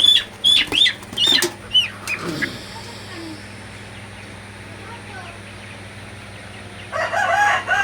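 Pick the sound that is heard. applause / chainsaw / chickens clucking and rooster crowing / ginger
chickens clucking and rooster crowing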